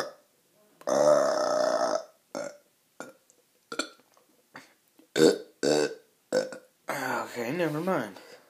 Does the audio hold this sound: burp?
yes